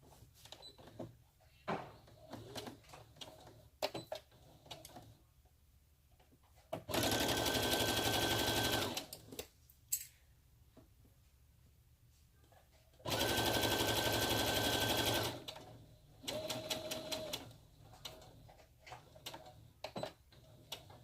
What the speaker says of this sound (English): Teresa, I am sewing on my Brother SE625.